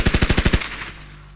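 A machine gun fires a fast, loud burst of roughly nine rounds, and the burst then cuts off into a fading echo.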